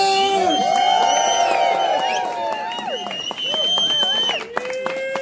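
Crowd at an outdoor event in Nepal, with overlapping voices, shouts and whistles forming a loud, continuous hubbub close by.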